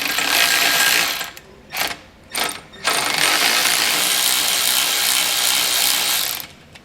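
Small 3/8-inch impact wrench running down steering stabilizer bolts on a 2021 Jeep, loud and close: several short rattling bursts, then one long sustained hammering run that stops abruptly.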